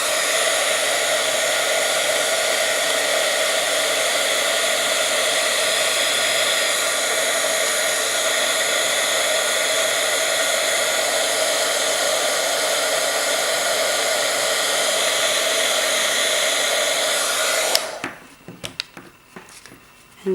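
A heat tool blows steadily and loudly for about seventeen seconds while melting embossing powder on a scrapbook layout, then cuts off, leaving faint handling clicks.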